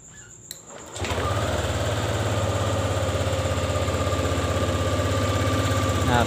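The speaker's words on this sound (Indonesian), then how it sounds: "Sekarang langsung saja kita coba nyalakan, kita bunyikan mesinnya." A Yamaha Lexi scooter engine fires up after a second of quiet and settles into a steady, loud, close idle running at a high idle speed, with a constant buzzing drone and no talk.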